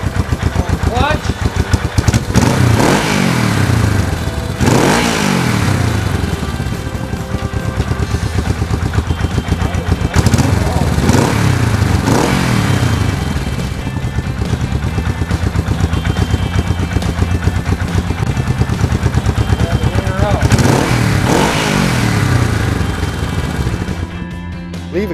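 A Honda 450 or 350 twin motorcycle engine, after a high-idle fix, runs loud and close with a steady idle broken by several sharp throttle blips and revs.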